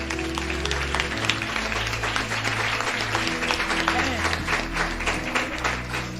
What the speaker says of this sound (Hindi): एक बार इस सत्य के लिए ताली बजाइए